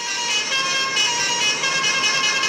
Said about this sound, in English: But the problem is I can't change these horns.